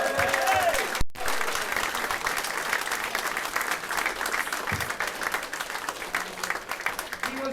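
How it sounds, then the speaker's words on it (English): An audience at a closing ceremony claps steadily, a dense and even wash of applause that holds from start to finish at a fairly strong level. "He's not here, but Dennis Edmonds, please give him a round of applause."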